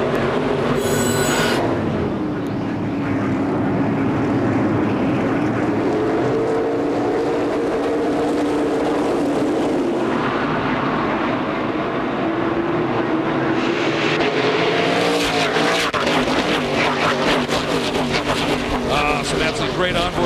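Stock cars race at speed during the 2004 ASA race at Mansfield: a dense, continuous engine roar swells and shifts as cars pass, with a commentator talking throughout.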